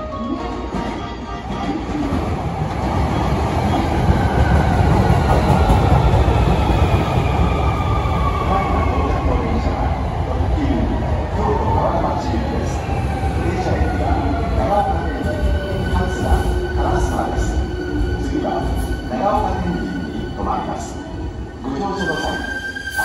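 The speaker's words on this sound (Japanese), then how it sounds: "この電車は特急京都川田町行きです。" Hankyu 1300 series train pulling into Takatsuki-shi station, a loud rumble of wheels and cars that slows with squealing tones, while a Japanese platform announcement plays over it.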